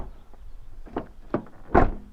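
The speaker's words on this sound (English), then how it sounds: "when you close the door, because you know you got your big shoulder gizmo there" The door of a 1989 Honda Accord is pulled shut, with a few light handling clicks and then one solid closing thunk near the end, close and fairly loud with no talk.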